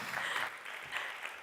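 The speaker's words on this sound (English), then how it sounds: "Another round of applause" An audience at a live AI summit applauds, a dense, even wash of many hands clapping at steady loudness throughout.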